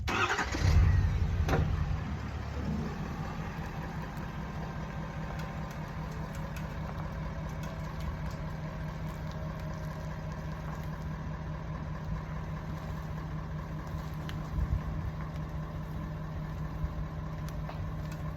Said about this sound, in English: Just tied it off to the back of the truck. And we'll pull forward and see if we can't pull this deer's hide off.